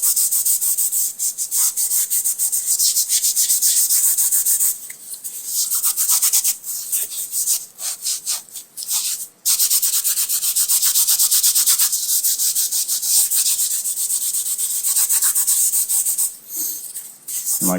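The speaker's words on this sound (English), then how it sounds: "So it's kind of like when you just lightly sand something before painting it." Continuous close sanding of hard plastic aircraft window trim from a Piper Arrow interior, a loud steady rasping rub with brief pauses and shifts in stroke rhythm.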